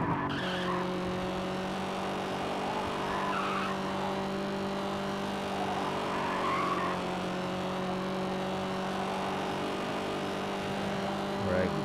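Corvette Stingray engine drones steadily at high speed in the racing video game Gear Club, a sustained even tone with faint tire skid noise, heard alone at moderate level.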